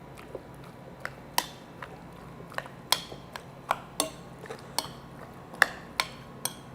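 Shrimp salad being mixed with utensils in a bowl: a series of light, sharp clinks and taps, irregularly spaced, close and fairly quiet, with no talking.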